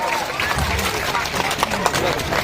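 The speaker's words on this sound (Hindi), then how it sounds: "जोरदार ताली होना चाहिए आप लोगों को" Audience clapping at a village coaching academy's student felicitation event, a dense, steady patter of many hands with voices mixed in.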